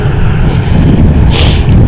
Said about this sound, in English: TUI with a 737-800 split scimitar.